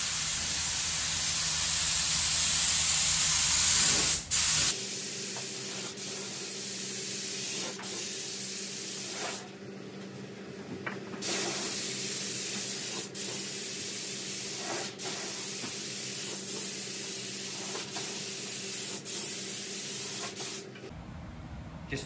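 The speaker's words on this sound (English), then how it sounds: "So we're gonna get this mixed up and spray it." A spray gun lays House of Color Shimmering Jet Black paint onto SS stripes on a 1970 Chevelle, a steady close hiss running almost the whole clip with a brief pause midway.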